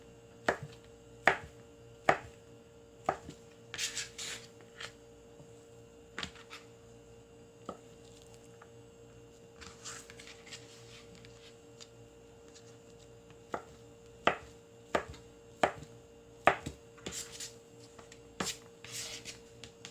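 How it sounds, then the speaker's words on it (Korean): A knife chops fish cake into bite-size pieces on a cutting board, sharp close taps in irregular runs with pauses between, over a steady faint background hum. "어묵도 반으로 잘라서 먹기 좋게 한 입 크기로 잘라줍니다."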